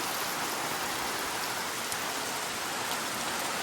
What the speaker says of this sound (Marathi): आता पाऊस कमी होऊची वाट बघूची लागतली या.